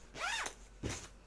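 A zipper is pulled shut on a sewn fabric bag prototype, making two quick, close rasping runs with a short pause between them.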